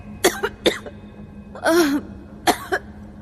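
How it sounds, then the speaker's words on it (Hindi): A woman coughs in a dusty, cluttered basement while a door swings open and dust rises, with several sharp separate bursts, one long rasping cough in the middle, and a final pair, close and loud with no talking. "बुरी तरह खांस रही थी"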